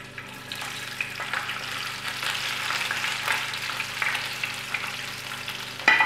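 Sweet peppers frying in hot oil for a spicy pepper dish, giving a steady, close sizzle with crackling pops throughout and a sharp louder burst near the end, with no one speaking.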